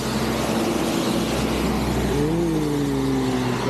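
A car accelerates along a road during a long drive in heavy rain, a steady, loud engine drone with a rising tone as it picks up speed, no talk over it.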